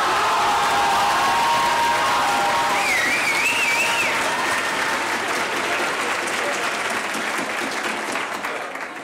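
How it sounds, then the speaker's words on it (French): An audience at a French student eloquence contest applauds loudly and continuously. The dense clapping fills the whole stretch and fades slightly at the end, while a voice speaks briefly over it. "Applaudissez-les."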